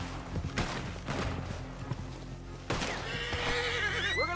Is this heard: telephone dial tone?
no